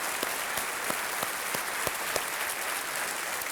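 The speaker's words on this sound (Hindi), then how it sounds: "मैं चाहता हूं कि तालियों के साथ इन 6 गुरुओं का स्वागत किया जाए।" Studio audience on a televised quiz show (Kaun Banega Crorepati) applauding to welcome six guest contestants; steady, dense clapping fills the whole stretch at an even level, with no voices over it.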